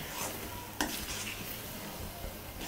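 A spoon stirs double ka meetha, a milk-soaked bread pudding, in a kadai, with soft continuous scraping and a faint sizzle, one sharper clack of the utensil against the pan near the start.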